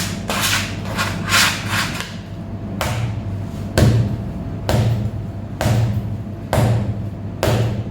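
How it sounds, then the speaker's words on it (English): Potato bread dough is rounded on a bakery work surface, giving steady, close rubbing and dragging sounds broken by a regular series of soft thumps as the dough is pressed and turned, with no talking. "Whatever is stuck to your hand, just take it off with the help of a dough scraper, and then we round up this dough"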